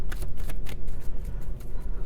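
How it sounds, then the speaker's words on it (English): Tarot cards are shuffled by hand in quick, crisp riffling bursts, close and fairly loud, with a brief voice underneath. "Maybe while I'm shuffling for the gift or talking about the gift"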